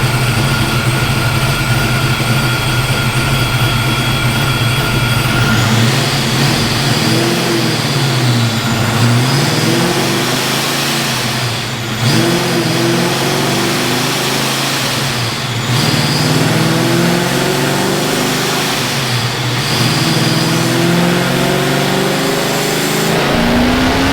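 A Vortech YSi supercharged Foxbody Mustang making over 900 horsepower roars on a dyno, its engine climbing through a sustained high-rpm run toward 7000 RPM with loud, continuous mechanical drone and brief dips between pulls.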